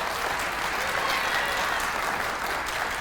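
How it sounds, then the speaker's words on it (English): An audience in a school hall at a kindergarten graduation claps continuously, a dense steady patter of many hands filling the room without pause for the whole stretch. "Would you give our students and teachers one more round of applause,"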